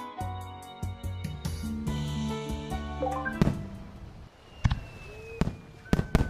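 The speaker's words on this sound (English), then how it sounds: "Wow! Beautiful fireworks!" Cartoon fireworks in a Calico Critters animation burst over bright musical tones, with a rising whistle and several sharp bangs and crackles in the second half.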